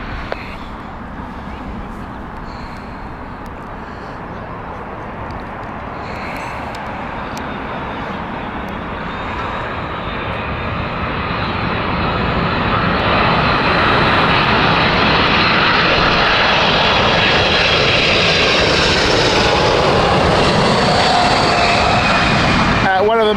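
A DHL cargo jet on final approach to Heathrow's runway 27 left in crosswinds, its engine roar swelling steadily from a distant rumble to a loud, broad close pass with a rising whine near the end; a voice speaks briefly underneath.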